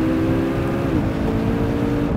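A 2015 McLaren 650S Spider's engine roars loud and close under full power on a race track, a steady sustained drone with no break.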